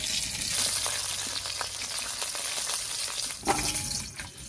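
Rohu fish frying in hot oil, a dense continuous crackle and sizzle with scattered pops, close and steady throughout.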